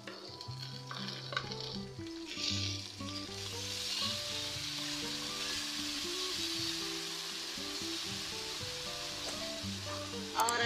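Garlic and ginger paste sizzles loudly in hot oil with light-browned onions while cooking mutton paya, steady frying hiss with stirring and occasional spoon-on-pan clinks, close up, no talking.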